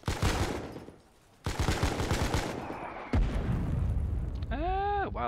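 Artillery fire in the war game Foxhole: heavy booming blasts and rumbling explosions that fill the clip, with a brief lull after the first second and a warbling siren-like tone near the end.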